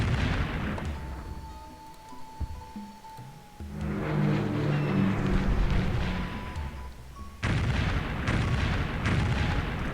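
Explosive bombing booms from a Civilization III air strike on a bomber, several heavy rumbling bursts with broad crackling noise, loud and close, with a second volley arriving near the end.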